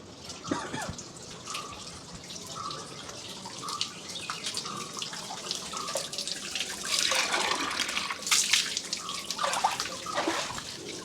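Water running from a cow-mouth spout at a temple and pouring into a vessel, a steady splashing trickle with drips and clinks and a fuller, louder gush in the latter half.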